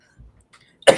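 A single short, sharp cough bursts out near the end after near silence, loud and close, with a few faint murmurs and small noises before it.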